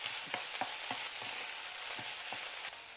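Crushed ingredients sauté in oil for okra gravy, a quiet steady frying sizzle broken by soft, irregular stirring taps of a spoon against the pan.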